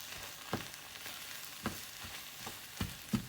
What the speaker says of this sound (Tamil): இப்போ நம்ம பீட் பண்ணி வச்சிருக்க முட்டையை ஆட் பண்ணிக்கலாம். இதையும் நல்லா மிக்ஸ் பண்ணிக்கலாம்.